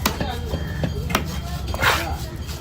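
A knife chops yellow parrai fish at the Kasimedu fish market in a few sharp, irregular cleaver strikes, with people talking nearby.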